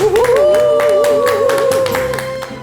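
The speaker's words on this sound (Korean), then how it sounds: "박수로 맞아주시기 바랍니다." An audience claps to welcome a professor of classical literature onto a lecture stage, a steady spatter of hand claps under a sustained, wavering musical tone that fades slightly toward the end.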